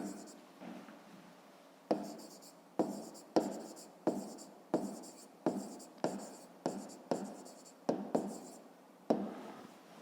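A pen writes by hand on paper during a fifth-grade maths exercise, making a steady series of short scratchy strokes, each a distinct close burst, repeating roughly every half second to second across the stretch.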